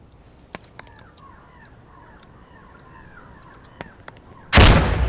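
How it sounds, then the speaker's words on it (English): A frag grenade in the tactical shooter Door Kickers 2 goes off with a sudden loud, broad blast near the end, after a stretch of faint clicks and ticking game sounds. "Let's toss a frag in here."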